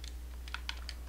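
Quiet keyboard typing with a handful of soft, irregular key clicks over a steady low hum, entering a search on an Xbox while playing Forza Horizon 4.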